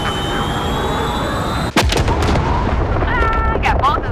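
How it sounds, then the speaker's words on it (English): A missile strikes a building in Call of Duty: Modern Warfare, a sudden heavy blast cutting through a dense rumbling battlefield din, followed by rolling debris and continued noise, with a voice faintly present. "That missile went right inside that building."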